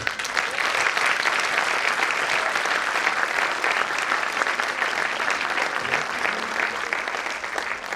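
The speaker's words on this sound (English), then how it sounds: "They definitely deserve a thunderous applause." An audience giving thunderous applause after a dance performance, dense, loud, unbroken clapping from a large crowd holding steady throughout with no talk.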